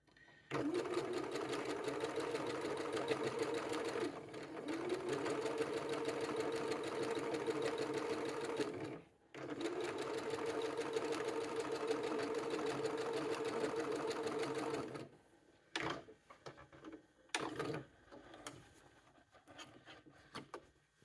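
A sewing machine stitches the side seam of a fabric tote bag in two long steady runs with a short pause between. A few scattered handling clicks and rustles follow after it stops.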